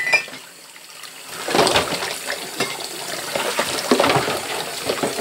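Water gushes and splashes into a kitchen sink with a blocked drain, rising and falling in loud bursts close by, with no one speaking.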